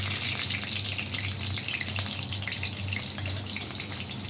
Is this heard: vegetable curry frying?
yes